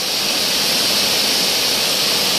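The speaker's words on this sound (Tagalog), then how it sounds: "Napakalakas ng agos ng tubig, ang daloy ng tubig dito." Strong river current near Nasuli Lake in Valencia, Bukidnon, a steady, loud, close rushing of water with an unbroken broadband roar and no voices.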